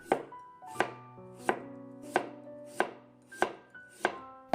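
A knife slices a cucumber on a cutting board with seven steady, ringing strikes, close and alone, each stroke leaving a faint resonant tail.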